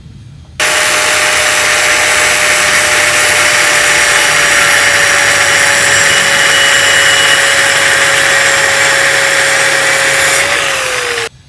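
Angle grinder grinding down a flux core weld cap on an overhead test plate: a loud, steady high-pitched whine holding constant for about ten seconds, then dropping in pitch as it stops.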